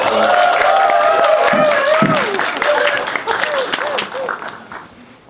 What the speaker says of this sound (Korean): 다시 한번 박수 치고 가겠습니다.